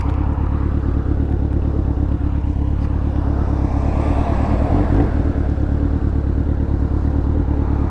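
A warming-up motorcycle engine idles close by with a steady low rumble and a fine, even pulsing throughout, and no voices over it.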